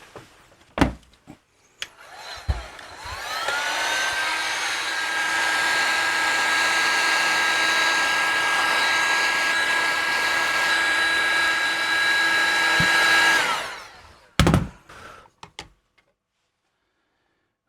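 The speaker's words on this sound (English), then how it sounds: "I think we ought to heat this up again so that I can melt that hot glue and stick it back down" A hot air tool heating a high-power delta loop antenna part to melt hot glue, a steady loud blowing whine with rising pitch that runs about ten seconds, framed by clicks and knocks.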